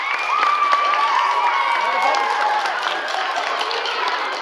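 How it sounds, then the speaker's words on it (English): An elementary school holiday concert audience claps and cheers steadily in a loud, dense wash of applause, with a few high shouts and whistles rising above the crowd. "my round of applause for you."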